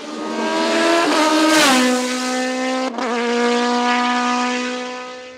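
A Tatus Formula Master single-seater race car at a hillclimb, its engine screaming at high revs near and loud, with a brief lift off the throttle before it pulls hard again through the gears.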